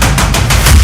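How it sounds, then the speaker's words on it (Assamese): Gunfire exchange between police and robbers on a highway at night, a loud rapid series of four or five sharp bursts in quick succession, close and unaccompanied by speech. "আৰক্ষী ডকাইতৰ মাজত পুৱতি নিশা প্ৰচণ্ড গুলীয়াগুলী।"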